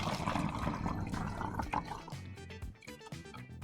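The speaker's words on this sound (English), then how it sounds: "pour the water into bottle A until it reaches the fill line" Water pours through a funnel into a plastic bottle toward a fill line, a close, steady gurgling splash with dripping and bubbling over a few seconds.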